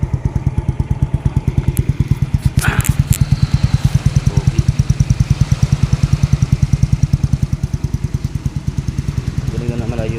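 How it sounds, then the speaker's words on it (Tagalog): A Yamaha Mio Soul i125 scooter fitted with an Exos RX7 exhaust idles up close, its engine beating out a fast, steady train of deep, throaty pulses without a break. "Salty Exos RX7 plug and play sound check."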